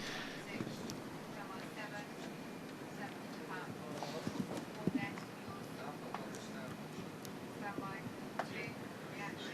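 Horse hooves clip-clop in a steady rhythm amid a busy crowd and a commentator talking over the top, at an international show jumping event in Liverpool.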